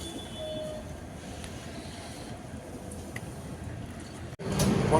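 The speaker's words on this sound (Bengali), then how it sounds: "এখন ট্রেন ছেড়ে দিয়েছে" Amritsar Mail passenger train pulling out on its way toward Varanasi, a steady low rumble of wheels rolling on rails heard from inside, with a louder surge of rolling noise near the end.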